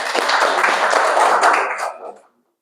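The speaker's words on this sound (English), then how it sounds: "Big round of applause for him as well, guys." Audience claps for a team member at an open mic event, a brisk burst of hand clapping that fades out within about two seconds, followed by silence.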